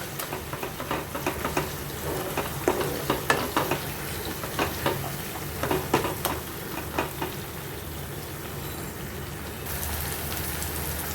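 Spice masala sautéing in a pan, a steady close sizzle with repeated scraping and stirring strokes clustered through the middle, settling back to an even frying hiss toward the end; no talking.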